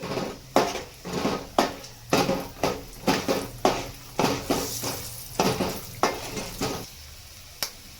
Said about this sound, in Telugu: పచ్చిశనగపప్పు, కొద్దిగా అది రోస్ట్ అయ్యేంత వరకు వెయిట్ చేద్దాము